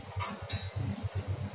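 An oiled steel plate set down on a bowl in a home kitchen gives a quick run of light metallic clinks and taps, close and fairly soft, with no talking.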